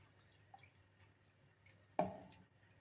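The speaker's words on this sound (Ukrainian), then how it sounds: "а тепер я заливаю водичкою" Water poured into a cooking dish while making strudel-style dumplings, one short splashing pour near the end, close and fairly quiet, following a few faint kitchen sounds.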